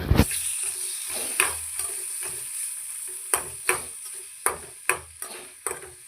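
Chilli powder frying and being stirred in a pan for a Kerala-style egg fry, with a steady sizzle broken by about ten sharp spoon scrapes and clinks at uneven intervals, close and clear with no talk.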